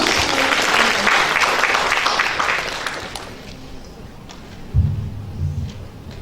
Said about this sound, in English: Yeah, please applause.